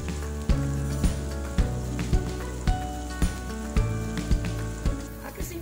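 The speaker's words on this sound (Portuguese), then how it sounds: "Eu começo colocando mais ou menos uns 100 ml de azeite numa frigideira, uma cebola bem picadinha" Finely chopped onion sizzling in about 100 ml of olive oil in a frying pan, a steady close-up crackling hiss with regular louder pops and spits throughout.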